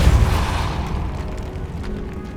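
Depulso spell cast in Hogwarts Legacy, a loud low boom that rolls off into a fading rumble over about two seconds, with no talk over it.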